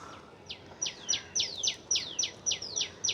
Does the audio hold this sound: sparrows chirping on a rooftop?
yes